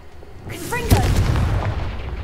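A Confringo blasting spell goes off in a Harry Potter video game with one sharp, loud blast and a rumbling tail, preceded by a short magical whoosh. Faint voices are heard around it.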